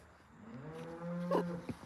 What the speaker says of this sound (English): Look how you're hearing mooing